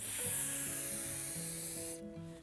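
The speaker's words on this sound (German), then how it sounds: "Dann nehmen wir bei der modernen Reinigung den W40 Spray und sprühen vorsichtig" WD-40 spray is sprayed onto a katana blade, a loud continuous hiss that holds for about two seconds and then cuts off, with faint tonal hum underneath.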